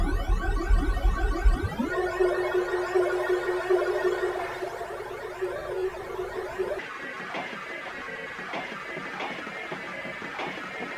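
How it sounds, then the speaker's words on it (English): A spectral processing effect in Ableton Live 11 turns an incoming signal into a smeared, shimmering drone with a sustained tone that shifts abruptly into a sparser, pulsing texture partway through. "this allows you to process the spectral signal of an incoming signal and can be very useful for something like drones"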